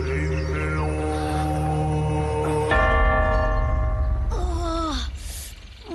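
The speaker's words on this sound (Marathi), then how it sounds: "काका मला वाटतं वाजूयात आपण घंटा" A temple bell rings out in sustained, resonant metallic tones, with a fresh strike partway through and the ringing carrying on loudly until it fades near the end.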